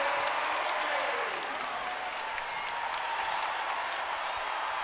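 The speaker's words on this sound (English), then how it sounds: "The crowd makes a little noise here with South Carolina in front for the first time tonight" Crowd at a women's college basketball game between South Carolina and Mizzou cheers and applauds as South Carolina takes the lead; a broad wash of clapping and cheering swells early, then settles to a steady, moderately loud roar.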